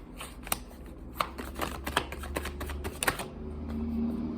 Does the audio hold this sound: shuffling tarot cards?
yes